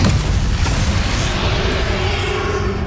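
A loud, sustained magical blast from the Bombarda explosion spell in the Hogwarts Legacy video game, booming low and continuous, with a rumbling tail that fades slightly over a few seconds.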